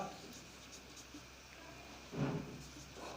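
Chalk or marker scratches across a board during a classroom lesson, with faint strokes tapping through and a louder scrawl near the end, under a teacher's quiet speech.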